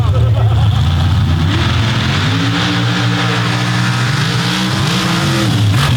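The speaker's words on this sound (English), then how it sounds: "running the 2015 fiberglass-bodied Colorado, the big block Chevrolet here in the Renegade class" A big block Chevrolet engine in a 2015 fiberglass-bodied Colorado drag car, Renegade class, roars loud and close at a pro stock championship event. Its pitch climbs and holds while an announcer talks over it.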